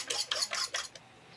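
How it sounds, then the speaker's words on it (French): Eggs being beaten for huauzontle tortitas, a whisk or fork clattering rapidly against a bowl in four quick bursts before trailing off, close and alone. "On bat les œufs"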